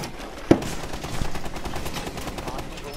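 Gunfire in the tactical shooter game Rainbow Six Siege: a sharp shot, then a rapid burst of automatic fire, loud and close, with a player's voice briefly over it.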